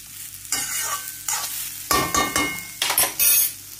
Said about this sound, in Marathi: छान भाजून घ्यायचं